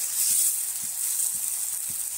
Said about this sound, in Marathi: यात आपण एक चिरलेला टोमॅटो घालून घेऊ। टोमॅटो छान मऊ होईपर्यंत शिजवून घेऊ।